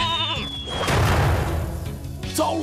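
Cartoon lambs bleat in a short wavering cry at the start on a farm, then a broad whooshing thump swells and fades, with a brief higher sound near the end.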